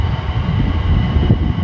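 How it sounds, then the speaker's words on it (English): Train passing behind the Copper Box Arena in London, heard as a steady low rumble with a continuous background hum, moderately loud and without talk. "You can probably hear a train passing in the background."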